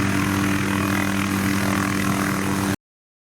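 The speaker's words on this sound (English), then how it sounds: "Wait, helicopters sawing the tree?" A helicopter carrying a saw to trim trees along electrical lines, a steady loud rotor and engine drone with a continuous whirring hum, no talking, cutting off abruptly.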